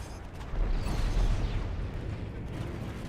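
Seeker missiles launch in Strike Suit Zero with a rushing, rumbling burst that swells after a brief lead-in and then sustains as a dense roar before easing off.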